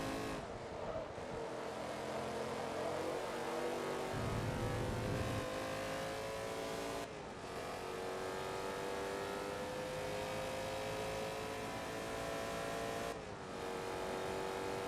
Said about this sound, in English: this car sounds amazing